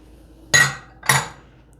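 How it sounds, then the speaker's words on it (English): Vanilla yogurt is scraped from a container into a blender in two quick metallic clanks about half a second apart, close and fairly loud in a quiet kitchen. "And let's scrape all that goodness into our blender."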